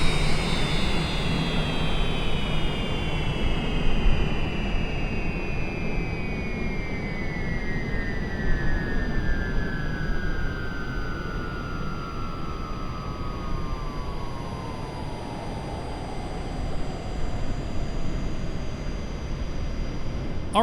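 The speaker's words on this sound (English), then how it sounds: "Shut the engines down." Airliner engines in Microsoft Flight Simulator spooling down after landing in a hurricane, a steady roar with a high whine that falls slowly in pitch over about twenty seconds, fairly loud and continuous, no talk.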